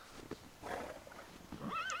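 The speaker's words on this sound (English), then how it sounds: "The horse says nay." A horse in the video game Blood Will Tell: Tezuka Osamu's Dororo whinnies with a rising, wavering neigh near the end, after some soft snorting and shuffling sounds.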